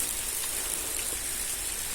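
Steady rain falls at a night feeder-fishing spot by the water, a continuous even hiss of drops on surfaces with no breaks, fairly close and moderately loud.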